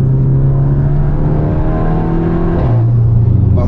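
A VW Jetta TSI with a large turbo and remap revs loud and close, its engine note climbing steadily, then dropping sharply as it shifts and begins climbing again.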